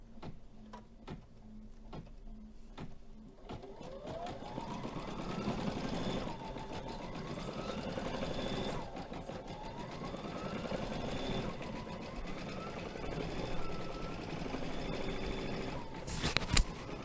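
An embroidery machine stitching out a design runs with a continuous rapid mechanical chatter and rising, falling motor tones, close and steady, after a few sharp clicks at the start.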